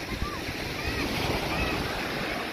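Strong storm wind roars steadily across the microphone on a beach, with surf washing underneath and a faint voice or two in the distance.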